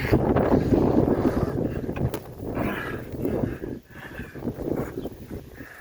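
Outdoor wind buffets the microphone in loud, rumbling gusts while someone works under a Jeep Wrangler during a November oil change, easing off somewhat toward the end.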